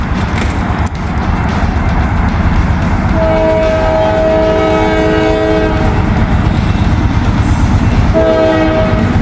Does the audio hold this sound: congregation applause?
no